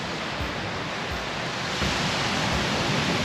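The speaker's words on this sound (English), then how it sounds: "just enjoying the gentle sounds of the waves, the wind blowing through the trees" Ocean waves wash steadily onto a beach on Oahu's North Shore, a loud, continuous rushing surf with wind blowing through, and no voices.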